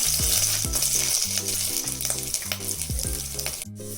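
Ginger, garlic and cinnamon sizzle in hot oil in a pan for a veg kuska, a loud continuous crackle with a rhythmic low musical tone running underneath and no speech.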